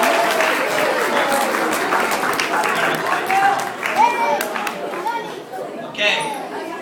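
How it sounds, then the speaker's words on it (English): A school honor roll assembly audience gives the B team a round of applause, a dense crowd clapping that rolls on steadily, mixed with chatter and cheering voices, with brief whistles or shouts toward the end. "Alright, let's get a round of applause for our B teamers."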